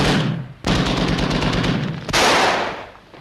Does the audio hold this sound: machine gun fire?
yes